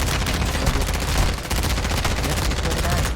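Call of Duty Warzone gunfire: loud, sustained automatic bursts crackle almost continuously, close and dense, with only a brief dip partway through.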